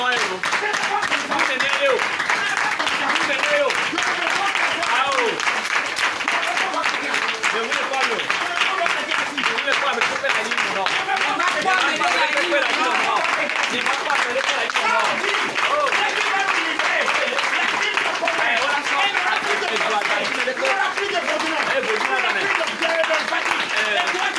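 A Sunday worship congregation in Comè, Benin, claps and acclaims Jesus together, a dense, loud, unbroken wash of hand claps and raised voices that holds steady from start to finish.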